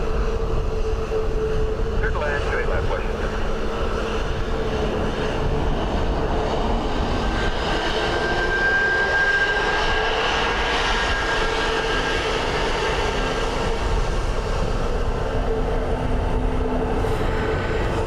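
A WestJet airliner lands at windy Dublin Airport, its jet engines a steady distant roar and whine heard outdoors, with someone talking over the sound.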